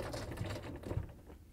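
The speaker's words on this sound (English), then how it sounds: "we can put in the screws that came with the kit to attach it to the cabinet." Screws are driven into a cabinet to fix a Frigidaire/Electrolux dishwasher side mount kit, giving a close, fast mechanical rattling whir with a couple of soft knocks.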